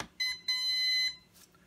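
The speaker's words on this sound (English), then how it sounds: "double beeps indicating compass calibration time" A HolyStone HS720E quadcopter drone gives two sharp electronic beeps, the second one longer, signalling compass calibration after power-up. The beeps are close and clean with no talk over them.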